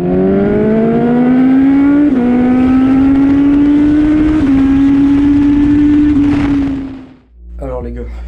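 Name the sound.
motorcycle engine starting after shifter install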